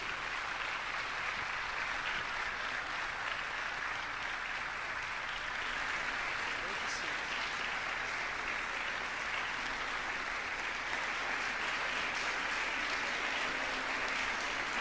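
A church congregation at a Holy Spirit worship service applauds in a continuous, dense wash of clapping that stays steady and full for the whole stretch, with no voices standing out.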